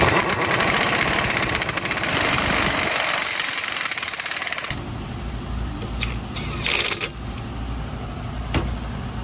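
Impact gun tightening the front hub of a Ford Explorer during a hub bearing replacement, loud rattling hammering bursts at first, then quieter short pulses and clicks in a garage.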